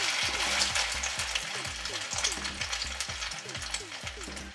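Cajun crab cakes frying in oil at about 360 degrees, a steady broadband sizzle with crackling pops, overlaid by a rhythmic low thumping pattern throughout.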